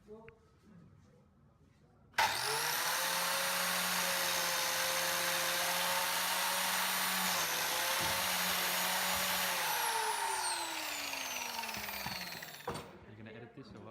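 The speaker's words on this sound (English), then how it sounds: "Using a biscuit cutter, I cut slots into the sides of the timber to make the wide board." A biscuit cutter (biscuit joiner) whines up and cuts slots into the edges of timber boards, a loud, sustained motor scream lasting about ten seconds before it winds down and stops.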